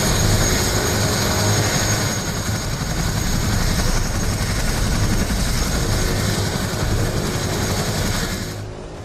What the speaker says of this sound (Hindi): हेलीकॉप्टर से लोगों का रेस्क्यू हो रहा है।